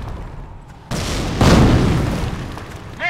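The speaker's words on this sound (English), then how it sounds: "Mortar ready! Commencing barrage!" Mortar barrage explosions from the video game Company of Heroes: a couple of deep, booming blasts that swell loud and fade, with a brief burst near the end.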